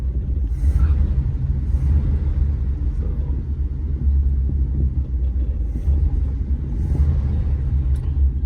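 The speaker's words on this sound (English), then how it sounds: "The more I run it, the better that engine sounds." A 1956 Chrysler New Yorker engine gives a steady, deep rumble throughout, loud and close, with a low idling throb and no talking.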